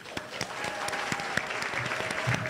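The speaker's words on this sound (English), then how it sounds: "So a round of applause again for them." Audience applause at a livestreamed fundraiser, a steady wash of many hands clapping, moderately loud and continuous for a couple of seconds with no talking over it.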